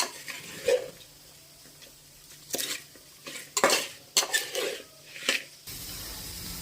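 A spoon stirs food in a metal pot in a home kitchen, mixed with rock salt, giving a series of scraping and clinking bursts, some close and sharp, with a low hum underneath.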